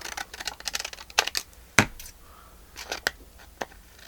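Paper being cut with scissors while making a file folder journal, a quiet run of small crisp snips and clicks at irregular intervals, one slightly louder, close by.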